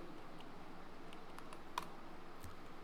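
Typing the word Microsoft on a computer keyboard, a short run of faint, light key clicks over a steady low background hum, with no voices.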